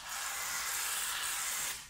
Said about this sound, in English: we are going to shake up that shaving cream, and we're gonna spray it in the pan